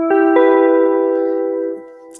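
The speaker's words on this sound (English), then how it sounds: "kind of like a plucked string and an E piano thing" A Yamaha CE-25 synthesizer plays its Percussive 3 voice, a plucked-string and electric-piano blend: a single clear tonal note with a bright attack, sustained and slowly fading before it cuts off, with no other sound.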